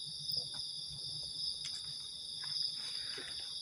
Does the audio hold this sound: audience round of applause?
no